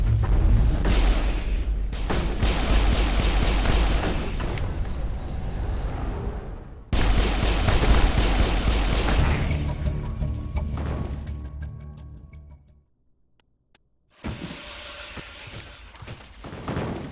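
Sustained heavy gunfire and booming blasts in a Mass Effect firefight, loud and dense for long stretches, dropping out briefly near the end before a final burst resumes.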